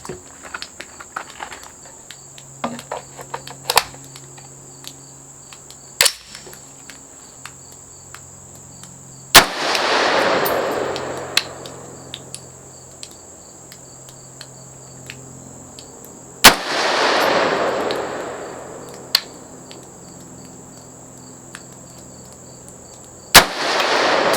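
Rifle shots from a Palmetto State Armory AR10 in .308 at an outdoor range: several sharp, loud single cracks spaced seconds apart, two with booming echoing tails, over a steady chirr of crickets and insects.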